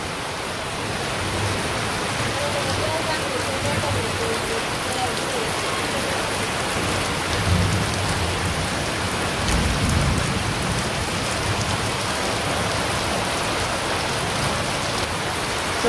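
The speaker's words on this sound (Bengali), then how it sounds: "বৃষ্টি কিন্তু মোটামুটি যে ভালোই নামছে, তার সাথে হচ্ছে বিদ্যুৎ চমকাইতেছে" Heavy rain pouring over village paddy fields during a thunderstorm, a dense steady roar of rainfall on surfaces with low rumbles of thunder around the middle, close and unbroken.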